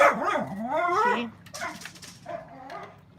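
Several dogs bark and yip loudly and close at hand, with excited whimpering and rising howl-like cries in a busy burst that trails into scattered quieter yaps.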